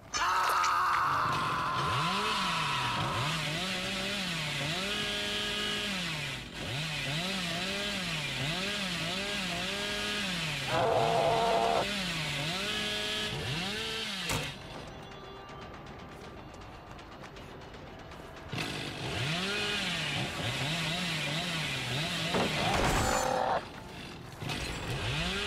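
Billy's chainsaw in Dead by Daylight revs loudly and close in repeated rising and falling surges, with a short quieter stretch midway before the revving returns.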